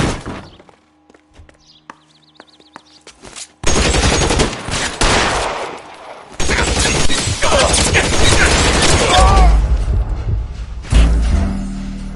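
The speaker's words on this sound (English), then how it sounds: "Shots fired." Heavy gunfire from a shootout in L.A. Noire, loud bursts of overlapping shots and rapid fire sustained for several seconds after a quieter opening with scattered thuds and movement.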